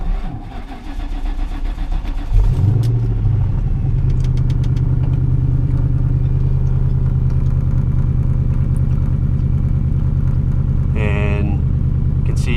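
A Ford Mustang GT V8 with a DiabloSport tune cranks briefly, fires up and settles into a loud, steady rumbling idle that runs on close by.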